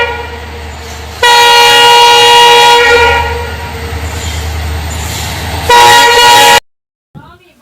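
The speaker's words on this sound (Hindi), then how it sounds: "और ये आप इस ट्रेन की आवाज़ सुनो" A train passes loud and close, its horn blaring in long sustained blasts over the rumble of the wagons, a second horn burst near the end before the sound cuts off abruptly.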